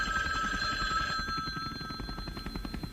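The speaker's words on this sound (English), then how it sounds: "Suddenly, the telephone started ringing." An old-style telephone bell rings steadily through the first second, then gives way to softer repeated ringing under a busy, cluttered background.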